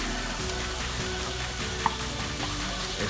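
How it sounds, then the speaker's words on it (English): Mushrooms and fresh minced garlic sizzle steadily in a hot pan, a constant close frying hiss with light stirring and one small pop partway through. "Now we're going to add our mushrooms"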